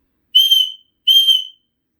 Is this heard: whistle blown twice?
yes